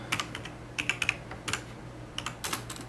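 Keys clicking on a computer keyboard as a search for a Z170 MX Gaming 5 motherboard is typed, short bursts of quick taps with brief pauses, fairly close and alone.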